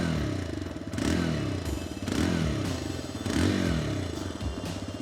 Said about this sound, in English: ये exhaust sound जो है आपको बाइक चलाते समय आपके फुल फेस हेलमेट में भी सुनाई देगा